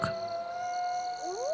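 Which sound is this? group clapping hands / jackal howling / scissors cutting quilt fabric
jackal howling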